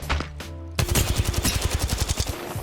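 Rapid automatic gunfire in the Apex Legends video game, a few separate shots first and then a dense burst of evenly spaced cracks, loud and close with no talking.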